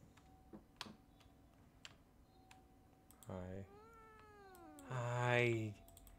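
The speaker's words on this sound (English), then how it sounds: "It was just a cat." A cat meows inside the video game Fears to Fathom Woodbury Getaway, with two drawn-out tonal meows rising and falling, the second louder. Soft clicks and ticks sit under them.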